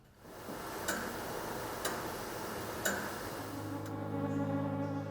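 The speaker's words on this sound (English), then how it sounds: "he wrote to the rhythm of this clock" A 1790 antique clock ticking in a quiet room, four evenly spaced crisp ticks about a second apart, faint and close, with a low hum rising toward the end.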